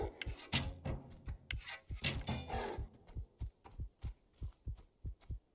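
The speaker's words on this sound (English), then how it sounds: "I still hear the heartbeat." A steady, thudding heartbeat pulses from a horror video game, each beat a deep double thump repeating at a regular rhythm, loud and close throughout.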